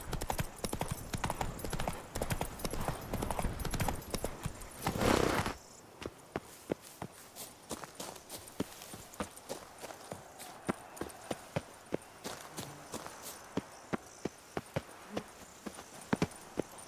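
A horse's hooves clip-clop in The Witcher 3 video game, at first a fast, loud, dense run, then a steadier, sparser trot of sharp hoof strikes over a quieter background.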